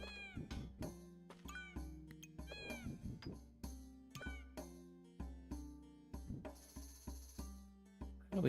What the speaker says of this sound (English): The kitty cat is very noisy.